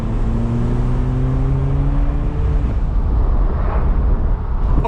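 A 2021 Mini Cooper S Convertible accelerating, heard close and loud as a deep engine note with rising tones that climb over the first half, then give way to steady road and engine roar.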